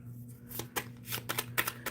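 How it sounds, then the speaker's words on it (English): Tarot cards shuffled by hand in a quiet room, a string of crisp riffling flicks and soft slaps in uneven bursts, close and fairly quiet, with a low steady hum underneath. "I am shuffling for the overall energy for the collective."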